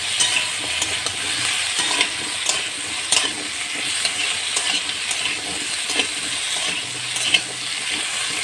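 Greens frying in a pan with panch phoron and chopped onion, a loud, bright, continuous sizzle punctuated by regular scraping stirs, close up and without talk.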